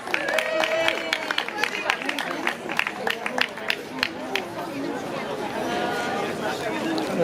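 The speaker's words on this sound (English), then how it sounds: "Give them a big round of applause." An outdoor festival audience on the Coal Quay applauds, a burst of scattered claps fairly near amid crowd chatter and voices, tapering off toward the end.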